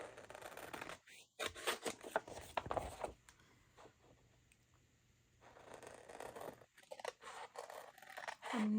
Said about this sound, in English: Next, I'll just cut this down to size.